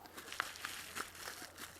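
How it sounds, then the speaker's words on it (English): A plastic bag being pried open, giving off soft, scattered crinkles and rustles of thin plastic at close range, with no talking. "I can't fight my way into a plastic bag"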